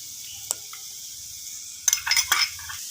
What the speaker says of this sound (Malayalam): മുളക് പൊടിയും മഞ്ഞൾപ്പൊടിയും കൂടി ആഡ് ചെയ്തിട്ട് ഒരു 1 മിനിറ്റ് ഇളക്കി കൊടുത്തിട്ട്